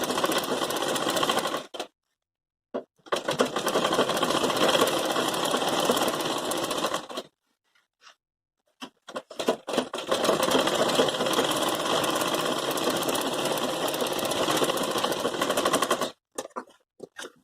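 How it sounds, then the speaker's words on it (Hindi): A sewing machine stitching a Patiala salwar, running in long rapid bursts of dense needle clatter broken by short pauses, close and loud with no talking. "यहाँ से मैं इस पर सिलाई लगाना स्टार्ट करूंगी"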